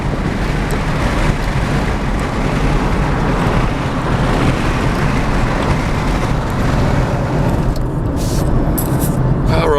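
Pickup truck driving on a back road with a window open, a steady loud roar of wind buffeting and road rumble filling the whole span, with a few faint clatters near the end.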